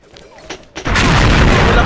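A grenade explodes in the online shooter XSHOT during a competitive match: a loud, sustained broadband blast that bursts in abruptly and rumbles on, following a brief lighter gunfire-like crackle.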